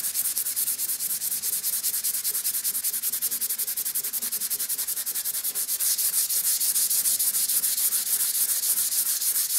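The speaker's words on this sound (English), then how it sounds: "Once you've give it a really good sand down, getting rid of them brush marks" Sandpaper rubs back and forth over a dried gloss-painted surface to flatten brush marks, a steady, close, continuous rasping hiss with no pauses.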